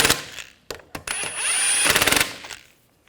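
An impact wrench snugs down lug nuts on a 2014-2020 Nissan Rogue rear wheel: a few short stabs, then a long, loud, close whirring run that ends in rapid rattling hammer blows and a fading tail.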